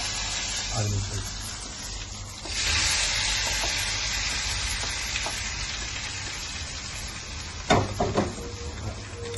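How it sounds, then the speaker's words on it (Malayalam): Spices for tempering sizzle and spit in hot oil for a Kerala Onam curry, a steady broadband hiss with a brief louder burst, close by, with no talk over it. "അങ്ങനെ താളിക്കാനുള്ള എല്ലാതും അതിലിട്ടു."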